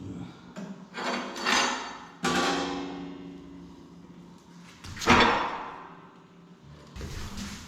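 A stove door is opened during a HETAS inspection, giving several scraping, knocking metal movements with two sharper clunks, close and moderately loud.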